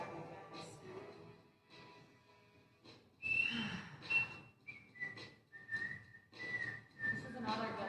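A referee-style whistle sounds repeatedly during a rehabilitative hip-strengthening exercise class, short sustained tones recurring every second or so over a background of instructor talk and music.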